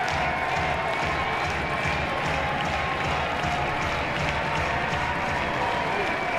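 A college baseball crowd at an LSU vs Missouri game with the bases loaded keeps up dense, continuous applause and cheering, filling the space as a broad wash of sound.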